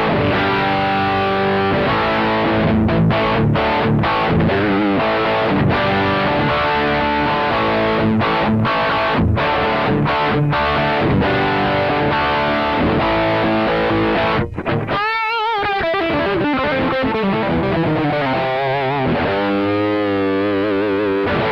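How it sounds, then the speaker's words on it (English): Distorted British-style electric guitar tone from a Peavey Gary Rossington signature Penta head on its bull setting, high gain with a tight low end, playing a chugging riff of chords and sustained bends, loud and continuous. "The bull setting is your classic British tone. It gives you more gain and a tighter low end."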